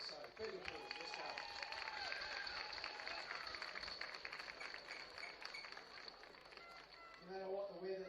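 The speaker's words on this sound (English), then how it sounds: "Big applause, let's go" Applause for the match officials at a girls' schools cricket premiership final, a spread-out crowd clapping steadily outdoors, fairly faint, with people talking over it.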